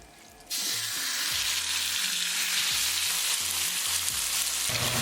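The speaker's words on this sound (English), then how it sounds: "With the help of 2 forks, we're going to stir fry." Pork tenderloin stir frying in olive oil: a sharp loud sizzle bursts in after a quiet start, then holds steady and close while two forks scrape and knock against the pan throughout.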